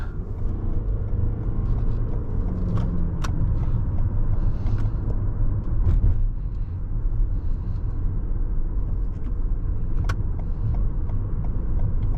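A 2022 Toyota Venza LE hybrid with a CVT drives along in the evening, giving a steady low road rumble and tire hum from the cabin with a few faint clicks.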